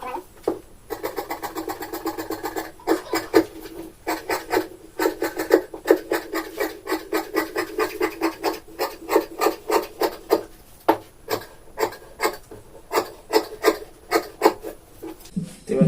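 Scissors cut fabric for a kameez in a rapid, rhythmic series of crisp snipping strokes, close and clear, dozens of cuts in a row with brief pauses.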